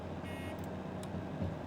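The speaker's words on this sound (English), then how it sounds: "why is the bell this annoying buzzer?" Electronic buzzer standing in for a locomotive bell in the train simulator game Derail Valley, a steady tonal buzz lasting about a quarter second over a constant low engine rumble, followed by a couple of brief high chirps.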